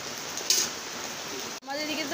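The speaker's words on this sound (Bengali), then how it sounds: "আর দেখো কি পরিমাণ বৃষ্টি হচ্ছে" Heavy rain falls steadily outside a home during a downpour, a constant hiss of moderate loudness with a brief louder splash and a short dropout near the end.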